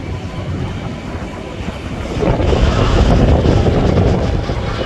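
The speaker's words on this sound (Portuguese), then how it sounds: "tá um vento aí, galera." Strong wind at Guarulhos airport buffets the microphone with a low roaring rumble that swells louder halfway through, with no voices.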